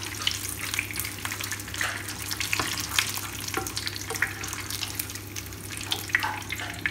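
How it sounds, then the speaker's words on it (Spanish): Spanish empanadillas frying in hot oil in a pan, a continuous close sizzle with bubbling crackles and occasional sharper pops throughout. "vamos a terminar de freírlas todas"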